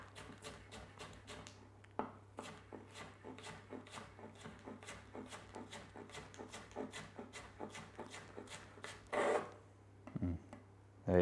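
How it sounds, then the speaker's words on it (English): Kitchen knife slicing vegetables into thin julienne strips on a cutting board, a steady series of crisp, close chopping taps in short bursts of five or six, with brief pauses between runs. "as you're slicing, do like 5 or 6 slices,"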